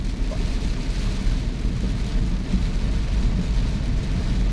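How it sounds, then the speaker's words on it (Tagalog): Heavy rain from Typhoon Carina pours down on a moving vehicle in a steady, dense roar with a low rumble beneath it, continuous and loud throughout. "Ayan, ulan pa more."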